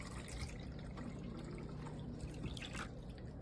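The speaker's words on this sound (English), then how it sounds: "You open the top, you put the amount of water" Water poured into the reservoir of a Keurig K-Mini single-serve coffee maker, a close, continuous trickling and splashing stream of liquid with faint dripping, heard alone without talk.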